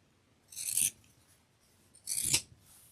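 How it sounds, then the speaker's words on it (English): Scissors snip through fabric twice to cut pieces apart while making fabric hearts, each cut a short, crisp, close rasp separated by a pause. "I think it might be a little bit easier for me to cut these apart."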